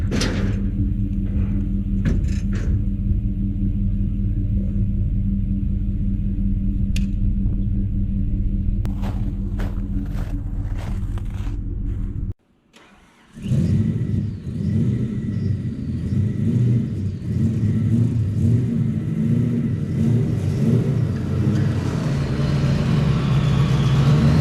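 A 1993 Ford Mustang Cobra arriving, its engine giving a loud, steady low rumble close by, broken by a brief drop in sound, then resuming with revving and vehicle noise.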